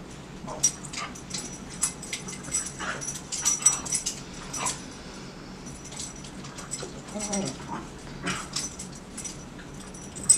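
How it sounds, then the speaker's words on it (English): Two dogs play and roughhouse indoors, with scattered yips, whimpers and scuffling bursts at close range over quiet room noise. "You hear a dog going in the background."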